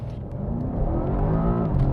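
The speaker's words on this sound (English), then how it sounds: "First acceleration in the M8 Gran Coupe." A BMW M8 Competition Gran Coupe launches hard from a standstill, its engine note rising steadily as it accelerates, loud and close from inside the cabin with a continuous roar and no talk.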